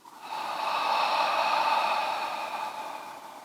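Long open-mouth exhalation during yoga breathing, a single breathy rush of air that swells and slowly fades over a few seconds, close and alone.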